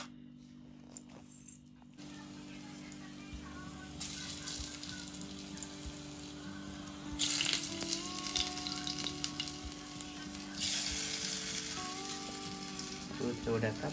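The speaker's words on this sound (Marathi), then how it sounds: "ते आता आपण थोड्या वेळात भाजून घेऊया" Alu vadi, rolled colocasia leaf slices, shallow-fry in oil, giving a continuous close sizzle that flares louder in a few bursts. Faint clinks and stirring come through at times.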